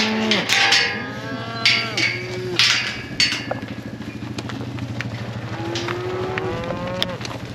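Calves and cows in a cattle pen moo repeatedly, several loud nearby calls in the first half giving way to longer lower moos, with a motor droning steadily underneath.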